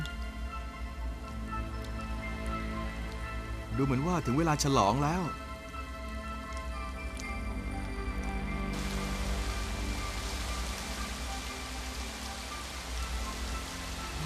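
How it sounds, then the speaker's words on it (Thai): Rain falls steadily in northern Australia at the start of the wet season, a continuous hiss that swells and thickens in the second half beneath someone speaking Thai. "ดูเหมือนว่าฝนจะตกจริงๆแล้วล่ะ"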